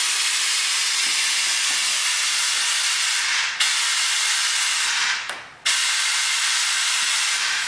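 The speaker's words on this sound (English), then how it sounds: "when we inflate it, we're listening for the PRV, which stands for pressure release valve or relief valve" A survival raft inflating for inspection, with a loud, steady hiss of air through the pressure relief valve that cuts out briefly twice and then resumes, heard alone with no talk.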